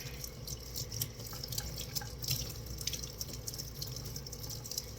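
Water runs steadily from a kitchen tap into the sink while dishes are washed, a constant splashing hiss with small clinks and drips, fairly close and without talk.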